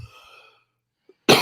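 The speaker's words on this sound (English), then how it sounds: "I have to cough." One sharp, loud cough bursts out close at the end, after a faint stretch of quiet voice and a small throat noise.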